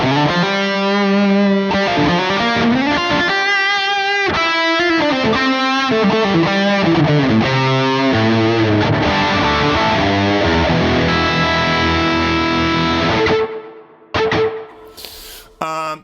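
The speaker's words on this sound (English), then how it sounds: "Let's start off with Astro Repeater. So, kind of based on a, as you can tell, on the Space Echo." Guitar through an amp running an Astro Repeater tape echo modeled on the Space Echo, a loud stream of repeating, overlapping notes that smear into echoing trails before cutting off near the end, followed by brief scattered noises.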